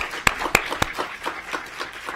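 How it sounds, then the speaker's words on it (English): A few scattered, uneven claps from a small school board meeting audience, with sharp separate hand claps early and then softer sparse clapping fading through the short stretch. "Give a round of applause."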